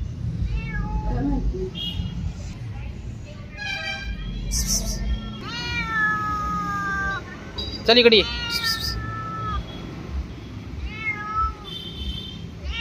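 A cat meows several times, drawn-out and plaintive at moderate distance, while people talk nearby over a steady background hum.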